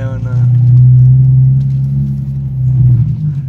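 A manual-transmission car engine idles in a steady, loud low rumble with a slight swell and dip, while people talk over it.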